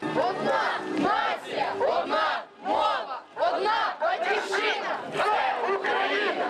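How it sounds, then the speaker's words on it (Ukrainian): Activists march along a city street shouting patriotic slogans in unison, a loud crowd of voices chanting in rhythmic bursts with brief pauses, close and continuous. "Активісти з патріотичними вигуками рушили вулицею Богдана Хмельницького"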